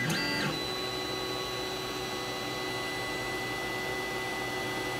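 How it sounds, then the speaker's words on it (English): A 3D printer begins a first test print with a brief rising stepper-motor whine, then settles into a steady mechanical hum and whir, close and continuous. "The printer should start printing as soon as we select the file."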